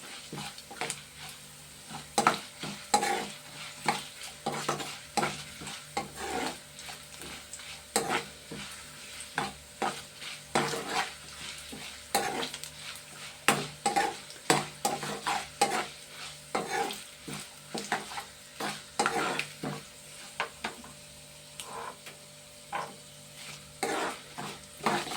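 Tempering spices fry and get stirred in a pan, with repeated sharp scraping strokes over a continuous sizzle. The strokes come in an irregular rhythm, close and clear, for about twenty-five seconds with no speech.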